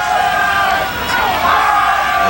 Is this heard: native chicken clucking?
no